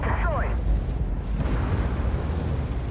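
A Sheridan light tank fires its 152 mm M81E1 gun launcher in Armored Warfare, a heavy close boom followed by a long rolling rumble and mechanical clatter, with a brief whistling tone at the start.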